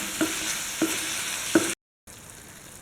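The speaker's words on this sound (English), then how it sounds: "Now I am adding chopped tomato to this. Let it cook for 2 minutes." Chopped tomato and onion cooking in a pan give a soft steady sizzle, broken by three quick stirring scrapes before a brief silence.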